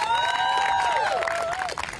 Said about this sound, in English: I would like to give a round of applause for Professor Hampton